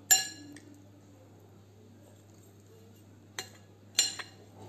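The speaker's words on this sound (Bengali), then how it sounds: "এরপরে সব মাখাই দিচ্ছি" Mango being mixed with salt, sugar and spice powder in a bowl, heard as a sharp clink of a utensil against the bowl at the start, followed by two more clinks after a quiet stretch.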